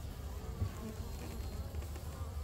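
A dense, steady buzz of many honeybees inside a Layens hive, close and continuous with a low droning hum and no voices.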